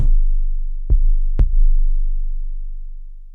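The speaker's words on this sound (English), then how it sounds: "Let's make one heavy bass drum." A deep, booming 808 bass drum sustains a long low tone that slowly fades, with two short sharp hits sounding over it.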